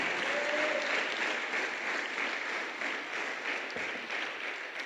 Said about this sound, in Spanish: denle una fuerte ofrenda de palmas al Señor